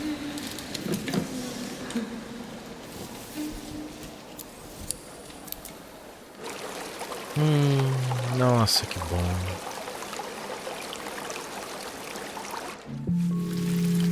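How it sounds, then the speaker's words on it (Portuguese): Flowing water in the climbing video game Jusant, a steady rushing pour throughout, with a brief spoken remark and some tonal game sounds partway through. "Barulho da água, barulho da natureza, uma coisa que relaxa demais"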